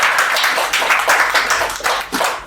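A congregation at a house-warming prayer ceremony in Naivasha claps steadily in close, lively bursts of many hands, with a faint voice mixed in underneath.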